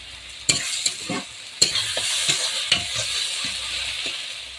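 Onion, garlic and ginger paste frying in a pan for a chicken dish with poppy seeds, soft sizzling under several sharp scraping stirs of a spatula.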